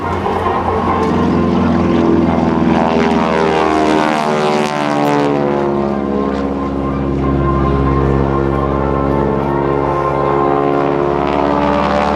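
A T-6 propeller aircraft takes off at the 2014 NAS Oceana Airshow with a loud, continuous, buzzing engine and propeller drone that shifts in pitch as it climbs away, with no voices over it.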